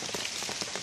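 Rain patters steadily on surfaces in a forest, a soft, dense spread of drops with no voices.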